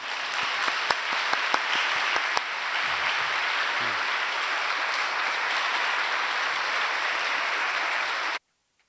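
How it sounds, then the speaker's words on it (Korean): A church congregation at a Sunday vision seminar applauds warmly to welcome Pastor Kwon Jun to the pulpit: a loud, dense, steady roar of many hands lasting about eight seconds, then stopping abruptly. "이 시간 우리 권준 목사님 말씀 전하러 나오실 때 우리 뜨거운 박수로 환영하겠습니다."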